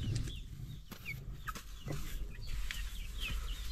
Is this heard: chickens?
yes